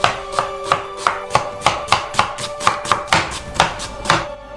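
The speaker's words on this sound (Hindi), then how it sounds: "प्याज को क्यूब्स में काटें" An onion is chopped into cubes with a knife on a cutting board, about fifteen crisp, evenly spaced blows landing in a steady rhythm, close and distinct with no voices.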